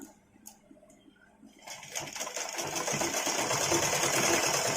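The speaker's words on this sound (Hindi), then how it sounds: "अब इस पर हम सिलाई ऐसे मार देंगे ताकि हमको इतना ही पतला ले आना है।" A sewing machine stitching a choli cut blouse starts up after a quiet moment, then runs in a fast, steady mechanical whir close by.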